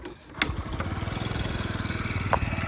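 A 2017 fuel-injected Yamaha Jog SA 55 J scooter engine idles steadily, a fast even putter with a couple of brief clicks, close by and with no talking.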